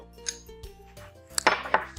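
Dried chopped apple pieces tumble into a mixing bowl in a few short bursts of light clattering and tapping, close by and alone, with small pauses between pours.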